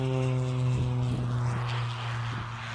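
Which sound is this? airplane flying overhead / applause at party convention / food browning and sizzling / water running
airplane flying overhead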